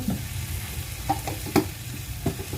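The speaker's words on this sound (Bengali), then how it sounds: "পেঁয়াজ ভেজে তো দিয়ে দিচ্ছি এখন দিয়ে দিব একটু আদা সরি আদা রসুন আদা রসুন পেস্ট একটু দিয়ে দিচ্ছি" Onions frying with ginger-garlic paste for khichuri in a home kitchen pan, a steady low sizzle with a few sharp stirring scrapes and clinks, close and without talk.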